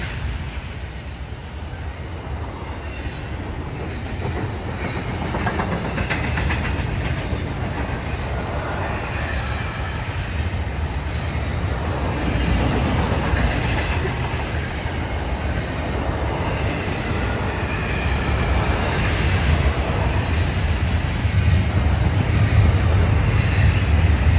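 A train rumbles steadily past close by, with continuous rolling wheel noise and faint clatter over the rails, growing slightly louder toward the end.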